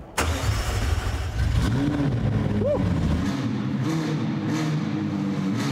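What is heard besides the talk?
McLaren sports car engine starting and revving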